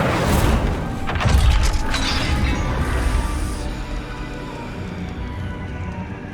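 A fire spell erupts in Hogwarts Legacy, a loud booming blast with crackling, rumbling roar that slowly decays into a fading whoosh over several seconds, no talking.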